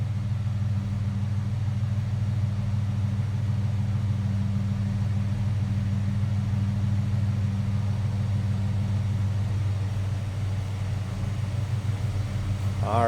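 A 1996 Ford Mustang convertible's 3.8 liter V6 idles with a steady low, even rumble close by, holding constant throughout with a faint rise at the very end.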